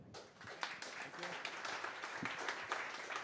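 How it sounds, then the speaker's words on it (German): At an Astronomy on Tap night in Bonn, the audience applauds the speaker with scattered, fairly quiet clapping, and some voices murmur through it. "Also jetzt auch nochmal einen großen Applaus für Andrei Lobanov."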